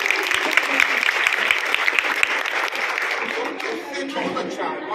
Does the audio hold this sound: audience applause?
yes